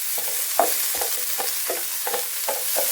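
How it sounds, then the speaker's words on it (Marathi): Chopped onion stirred into hot oil in a pan alongside fried green chillies, giving a steady soft sizzle broken by rhythmic scraping stir strokes about every half second. "आता हा कांदा आपण याच्यामध्ये टाकून घेऊया."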